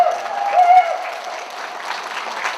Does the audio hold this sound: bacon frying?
no